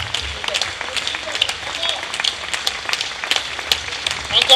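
An audience applauds and cheers in tribute to a Tchink System music icon, with sharp, dense clapping that continues steadily throughout at close range.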